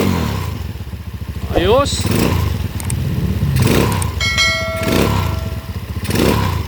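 A motorcycle engine with a quiet silencer exhaust and a thin, loosely mounted engine holder is revved several times. Its steady mid-pitched running swells and drops close by while someone talks over it.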